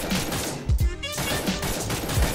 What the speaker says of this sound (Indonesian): Tadi kayak kedengaran suara tembakan orang.